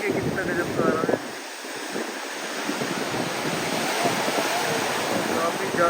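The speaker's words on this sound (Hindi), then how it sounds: "काफ़ी ज़्यादा ऊंची ऊंची लहरें आ रही हैं।" High ocean waves crash and surge along the shore at Somnath, Gujarat, a steady broadband roar with gusty wind noise buffeting the microphone, heavier in the first second and then continuous.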